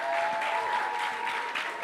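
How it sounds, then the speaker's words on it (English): Audience applause at an open source tech community conference, a brief, steady burst of clapping from a seated crowd with a faint tone running underneath. "please clap"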